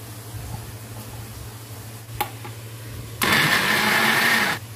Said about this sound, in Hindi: अब हम इसमें ब्लेंडर में डाल देंगे।